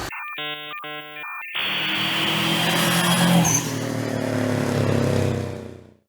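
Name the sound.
Subaru car engine running after being revived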